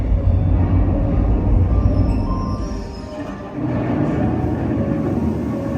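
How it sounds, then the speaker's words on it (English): A continuous heavy rumble of a rolling copper mine ore train, loud and close, with a brief dip midway before the steady roar resumes. "And here comes the ore train."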